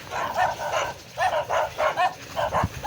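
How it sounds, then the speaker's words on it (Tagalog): Several pet dogs bark in a rapid series of sharp, mid-loud barks, spaced in short clusters with brief pauses, slightly distant over faint background noise, with no talk. "Ito mga alaga kong aso mga tarantado to eh."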